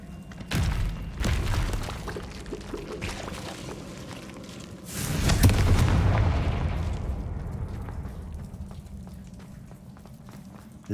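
In Hogwarts Legacy, an explosive Confringo blast booms loudly midway through a stretch of thumping game action and scattered impacts, then rolls off in a long, fading rumble.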